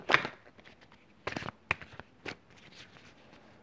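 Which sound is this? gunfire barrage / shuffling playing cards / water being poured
shuffling playing cards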